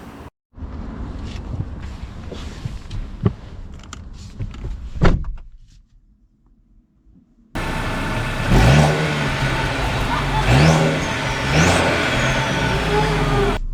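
A 2023 Mercedes C300 is started up and driven off, with a door thunk and interior rustling first, then the engine revving up in several accelerating surges, close and fairly loud.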